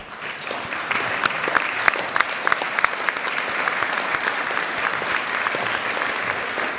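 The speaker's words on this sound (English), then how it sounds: "Please thank your families and friends by clapping." At a UNSW graduation ceremony, standing graduates clap for their families and friends, a full, continuous burst of crowd applause with sharp individual claps standing out near the front.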